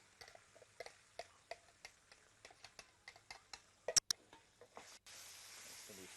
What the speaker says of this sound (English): Now you fry this until it's fragrant.